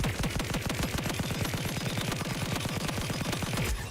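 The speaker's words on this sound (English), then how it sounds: "we have the energy rifle, which can shoot these sort of bouncing laser projectiles. You can rapid fire like that" An energy rifle in the VR game Robo Recall rapid-fires bouncing laser projectiles, a fast, even stream of sharp electronic shots that keeps going with no voices.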